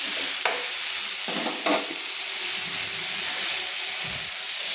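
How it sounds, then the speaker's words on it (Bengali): Potatoes and cabbage sizzle in hot oil in a pan, a loud continuous frying hiss with a couple of scraping stirs near the start, close up and without talk. "বাঁধাকপিটাকে ভালো করে একটু আমি আলুগুলোকে একটু লাল করে ভেজে নেওয়ার জন্য একটু নেড়ে নিলাম"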